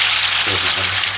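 Chicken fries in hot oil in a pan with a loud, steady, close-up sizzle that lasts only a moment, and no voices.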